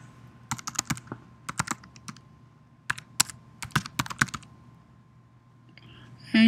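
Keys on a computer keyboard are tapped in short irregular bursts while a username and password are entered, close crisp clicks separated by brief pauses in a quiet room, ending with a faint noise.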